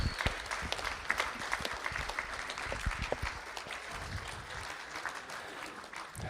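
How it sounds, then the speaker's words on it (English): A crowd applauds at a school district board of trustees meeting, dense sustained clapping from many hands spread across a large room, steady throughout at moderate distance. "Let's give a round of applause to these fine individuals."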